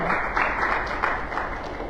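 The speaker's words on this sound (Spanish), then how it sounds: "¿Cuánto dan un aplauso fuerte al Señor?" Applause from a church congregation at a Sunday service, a steady wash of clapping at moderate volume, muffled and continuous.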